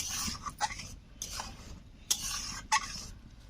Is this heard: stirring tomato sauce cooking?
yes